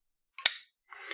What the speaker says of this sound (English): when it clunks open, there's a reverberation that gives it a particular quality